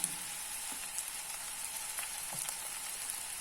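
Vegetables, including green jackfruit, sauté in a pan with salt and turmeric, giving a continuous soft sizzle with occasional faint scrapes of stirring, moderately quiet and steady throughout.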